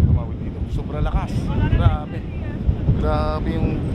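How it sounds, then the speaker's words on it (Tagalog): Strong gusty wind buffets the microphone in a rumbling roar while a person talks over it, on a hiking trail at Rattlesnake Ledge, Washington State. "Sobrang lakas yung hangin."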